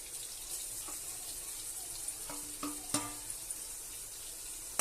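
Onion and mutton for Khandesh-style manda gosht are stirred together in a cooking pot: a soft, continuous sizzle broken by scattered scrapes and clinks from the spoon.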